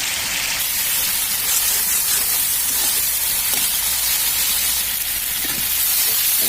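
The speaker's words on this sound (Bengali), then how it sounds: "মশলাটা ভালোভাবে ভাজা হয়ে গেছে" Spices fry in a pan for a hilsa fish and sweet pumpkin curry, a loud, steady close sizzle with faint stirring and no talking.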